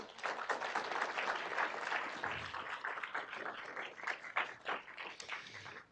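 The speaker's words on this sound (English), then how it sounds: "That's worth a round of applause right there, I think." Audience applause at an integrated pest management achievement awards ceremony, a dense, continuous clapping from a large crowd that holds steady throughout before tapering at the end.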